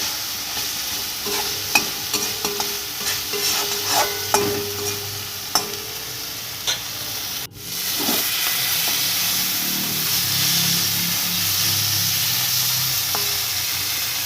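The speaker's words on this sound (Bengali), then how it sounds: "ভালো করে কষিয়ে নিতে হবে আর এর মধ্যে দেবো কয়েকটা চেরা কাঁচা লঙ্কা" Bengali egg curry masala with slit green chillies sautéed in a pan: close spoon scrapes and taps over a sizzle for the first half, then a sudden fuller, louder hissing fry that runs on alone.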